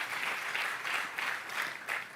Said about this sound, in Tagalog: Pwede po ba tayong pumalakpak na malakas na palakpak